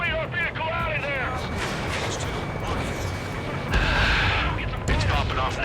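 Anti-aircraft fire in the Ace Combat 7 video game, a dense ongoing barrage of rumbling bursts running the whole time under near, loud voices and radio chatter, with a sharper burst of firing near the end.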